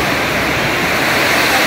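Heavy rain pounds on house roofs during a storm in El Jabalí, a loud, steady, unbroken roar of water drumming with no pauses.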